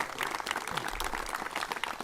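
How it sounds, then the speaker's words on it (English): Audience members at a museum celebration event clap in a continuous, fairly dense round of applause that stays steady and moderately loud, with faint voices mixed in underneath. "A round of applause for these people."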